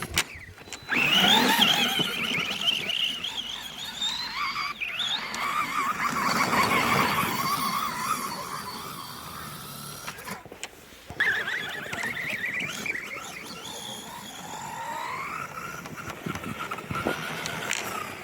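A Remo Hobby EVO R radio-controlled car driven at full throttle whines loudly, its motor pitch rising and falling in surges with a brief cutout midway, heard close and alone.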